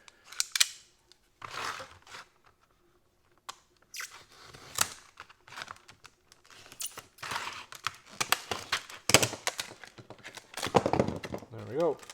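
A multi-function folding utility knife with a plastic body is unpacked, giving close, irregular bursts of crinkling, snapping and rustling packaging separated by short pauses.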